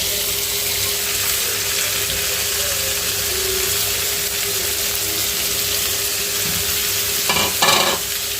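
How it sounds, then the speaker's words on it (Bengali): Marinated kachki fish stirred into onions frying in hot oil: a loud, continuous sizzle with steady stirring, and a couple of sharper scraping bursts near the end. "এরকম যখন ভাজা হবে তখন এই মাছগুলো কাসকি মাছগুলো যে মেখে রাখছি যে ওগুলো আবার ঢেলে দিব"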